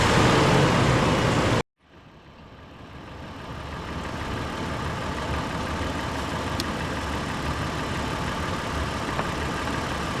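Budget Gobege portable air compressor inflating a vehicle tire through a hose during overland gear testing: a brief loud burst cuts off, then a steady motor drone starts up and runs continuously, close and fairly loud.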